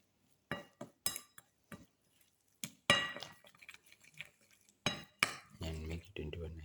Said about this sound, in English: And make it into a nice paste.